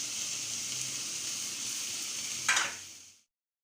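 Chopped tomatoes tip into a hot pan of frying okra for bhindi masala, and a steady close sizzle jumps to a brief louder hiss about two-thirds through before it cuts off.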